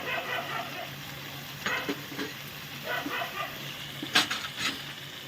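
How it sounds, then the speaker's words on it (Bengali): A fish head from a 1.5 kg fish frying in a pan as chili powder and turmeric are stirred in, with steady sizzling and intermittent scraping and clinks of the spoon against the pan, close by without talk. "ভালো করে নেড়ে নেবো এখন ভালো করে একটু কষিয়ে নেব"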